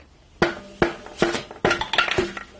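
Case halves of a 1600 dual-port VW engine are worked apart, giving a series of sharp metallic knocks and clinks, spaced at first and then quicker and clustered, close up with no talk.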